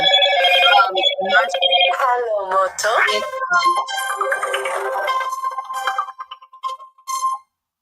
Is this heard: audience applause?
no